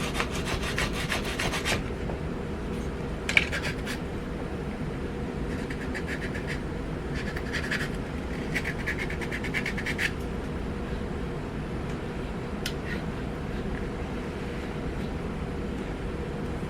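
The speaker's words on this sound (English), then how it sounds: "I'm going to get some good sanding on it, get it all smooth" Sandpaper rubs a carved wooden popper fishing bait smooth. Repeated close, scratchy strokes come in short bursts over a steady background hum.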